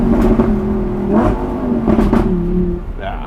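A Lamborghini Huracan convertible's V10 engine revs loudly and close by, holding a steady throaty drone with a couple of brief surges before easing off.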